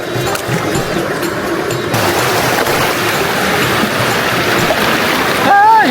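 Steady rush of water flowing at a natural bathing spot near Pollachi, Tamil Nadu, a continuous close broadband wash with splashing, briefly joined near the end by a whistling tone.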